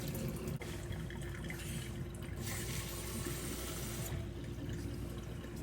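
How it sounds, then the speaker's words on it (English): Cooked garden tomatoes are poured from a pot into a container for home canning, giving a soft, continuous liquid pouring and sloshing sound that stays fairly quiet and steady throughout. "now I'm just gonna pour all these tomatoes into there"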